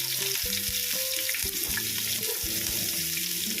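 Green chillies and sliced onion sauté in hot oil with a steady, close hiss that fills the clip, broken by a few scraping stirs; no one speaks.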